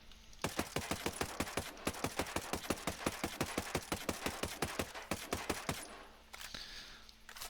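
A firearm emptying a second magazine outdoors: about thirty sharp, evenly spaced shots in a fast, steady rhythm, loud and close, ending abruptly into quiet background.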